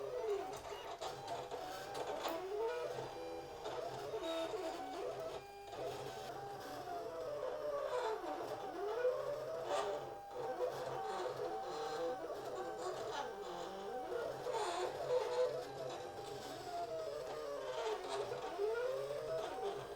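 An automatic cutting machine with a sheet feeder slices through cardstock, giving a steady mechanical whirring with repeated rising and falling motor sweeps as the blade head moves, continuous and fairly close for the whole stretch.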